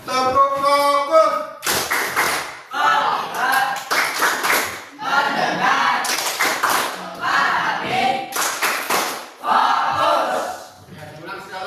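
Sharp, synchronized group claps beat out the 'tepuk fokus' rhythm in repeated bursts, each answered by loud group chanting, with a voice leading at the start.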